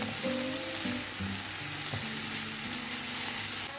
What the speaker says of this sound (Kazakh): майдаланған сарымсақты салып, тағы 1 минуттай қуырамыз